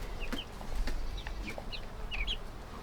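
Young farm chickens chirp and cluck in short, scattered peeps close by over a faint ambient background.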